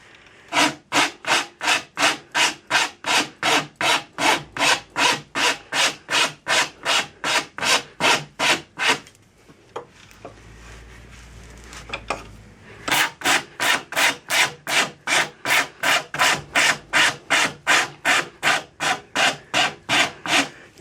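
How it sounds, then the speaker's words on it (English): A hand rasp files a horn nock on the tip of a yew English longbow in regular, evenly spaced rasping strokes, close and loud, broken by a short quiet pause before the rhythmic filing resumes. "Flip it over. Rasp to the mark again."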